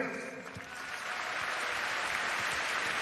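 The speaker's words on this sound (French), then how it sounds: "Vous pouvez les applaudir." Audience clapping after a Kyokushin karate demonstration at a martial arts festival in Bercy arena, a broad sustained applause that builds slightly and holds.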